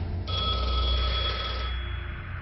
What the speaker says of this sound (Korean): 어둠 속에 울린 한 통의 전화.